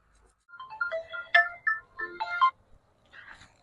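A phone rings while a call is placed, playing a short melodic ringtone phrase twice with a brief gap between, clear and close in an otherwise quiet space.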